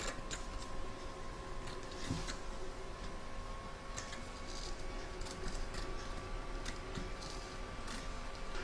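An embroidery machine stitches in the hoop, a faint, steady mechanical hum with light regular ticking and occasional sharper clicks running through the whole stretch.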